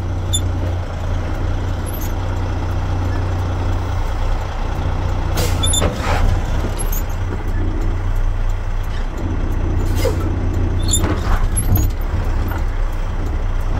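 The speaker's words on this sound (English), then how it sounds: "This is an example of dumping the clutch." Truck lurching as the driver dumps the clutch, heard as a loud, steady diesel engine drone with a few sharp clanks and hissing bursts over it and no talking.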